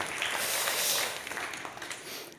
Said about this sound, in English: Round of applause for Artur